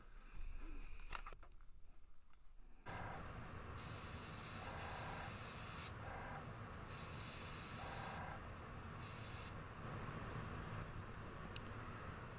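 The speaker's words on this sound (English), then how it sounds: "So I sprayed on an angle, just to kind of get the darker part on the back of the gill" Airbrush spraying paint onto a fishing lure, a steady hiss broken into several short bursts as the trigger is pressed and released, close and fairly loud after a quiet start.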